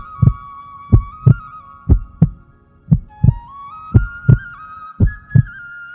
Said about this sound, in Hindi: उन्होंने बाल मुकुंद की मूर्ति को धीरे से हाथ में उठाया और तभी उन्हें हल्की सी धड़कन महसूस हुई।